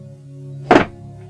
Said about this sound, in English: There's a tree that hangs over my roof, and it's dropping nuts